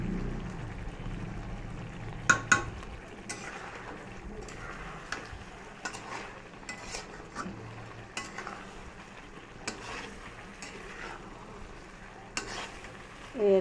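Spice masala being stir-fried with boiled potatoes in a pan, a soft ongoing sizzle punctuated by repeated scrapes and knocks of a spatula against the pan, close and unhurried with no talk.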